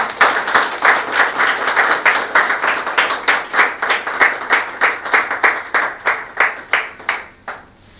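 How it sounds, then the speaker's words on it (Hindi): An audience at an orientation and training programme session in Ahmedabad claps loudly in unison, a fast, even rhythm of sharp claps, roughly four per second, that runs for several seconds and then stops abruptly. "जोरदार तालियां हो जाए"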